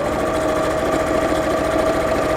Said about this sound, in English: I'm just matching up the corner seams and sewing within the seam allowance